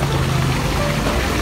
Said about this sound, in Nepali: यताबाट झर्ना बनाएको रहेछ तलको पानी तानेर माथि हालेर